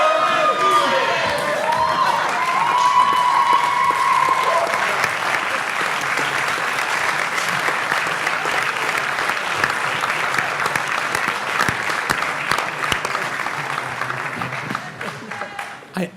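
Audience applause with cheering after a startup pitch at a business forum, sustained loud clapping with whoops and shouts that carries on strongly before tapering at the end, a voice briefly heard at the start.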